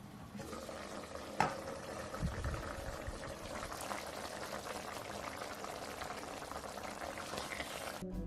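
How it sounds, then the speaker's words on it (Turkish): Meatball and pea stew with potatoes simmers in a covered pot on the stove, giving a steady, even bubbling hiss that runs the whole time with no talking. "Patateslerimizi de yumuşayana kadar pişiriyoruz."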